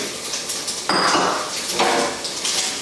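A frying pan used for scrambled eggs is lifted off a stovetop burner and set aside, giving two clattering metallic knocks with a scraping slide between them, close and fairly loud.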